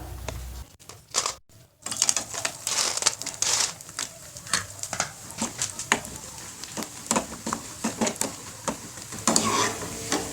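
Crackling, sizzling bursts of sun-dried leftover rice vadagam deep frying in hot oil, with scattered sharp pops and crinkles throughout, close and fairly loud, no talking.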